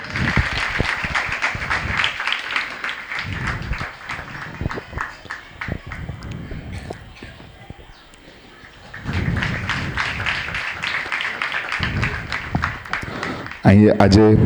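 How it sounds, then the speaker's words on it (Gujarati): A crowd at a scholarship ceremony claps loudly and continuously, the applause swelling, dipping briefly, then rising again in a second burst. "જોરદાર તાળીઓ એક વખત, ફરી વખત."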